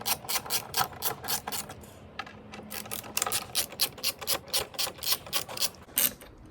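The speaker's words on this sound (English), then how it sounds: "T30 in there and the ratchet, and we'll just pull it off" A ratchet driving a T30 Torx bit loosens the front bumper screws on an Audi 8V S3 Sportback, giving steady, rapid bursts of close metallic clicking that repeat throughout with no talking.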